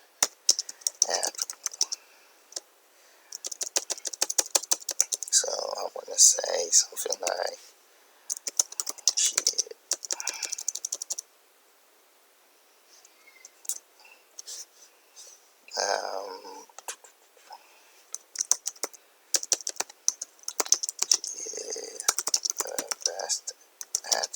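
Computer keyboard typing in irregular clattering bursts of quick key clicks with brief pauses, close up, with some talking.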